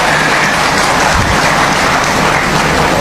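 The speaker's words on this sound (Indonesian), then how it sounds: "Tepuk tangan ya." A dense, loud wash of clapping from a large crowd at a religious study gathering attended by thousands of clerics, steady and unbroken like heavy rain for a few seconds.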